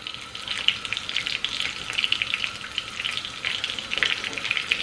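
Meatballs with cuttlefish browning in a frying pan give off a steady, close crackling sizzle that swells and dips in dense bursts, with no voices.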